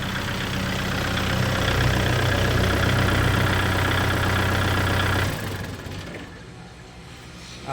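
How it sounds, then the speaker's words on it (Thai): A used Kubota L4708 tractor engine runs at a steady, loud, close idle with a firm rhythmic chug, then drops sharply to a quieter running sound near the end. "เสียงเครื่องยังดังแน่นดีอยู่พี่น้อง"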